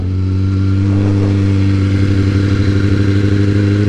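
A stunt motorcycle that is running hot idles loud and close, its steady engine drone roughening into light revving toward the end, with no talk.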